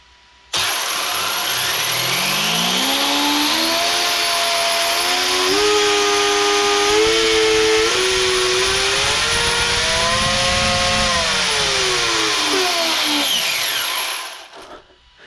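An engine revs hard at full throttle while a tire balloons, a loud continuous whine whose pitch climbs, holds and wavers near the microphone, then cuts off sharply at the end, with no talking.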